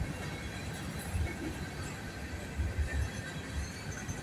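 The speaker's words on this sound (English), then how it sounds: "Here's you a double train this morning." Two trains pass a rail junction where the tracks cross and switch, giving a steady, broadband low rumble with faint wheel squeal mixed in, continuous and moderately distant.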